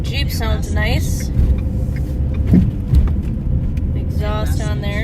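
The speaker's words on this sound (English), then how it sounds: "Jeep sounds nice." A low Jeep engine rumble and exhaust drone idles steadily up close while voices talk over it.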